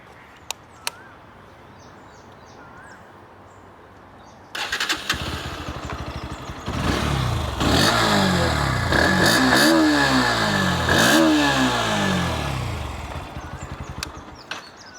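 A Bajaj Pulsar NS 160 motorcycle idles quietly, then fires up loudly and revs repeatedly in rising and falling sweeps, close by, before settling back down.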